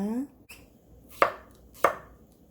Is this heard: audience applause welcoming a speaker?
no